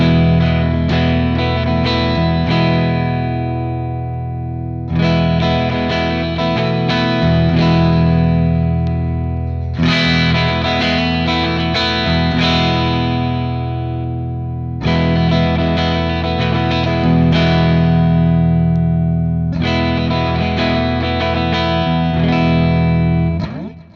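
Electric guitar through a Friedman JEL-20 amp with its bright switch in the first position, playing five loud distorted chord phrases separated by short pauses.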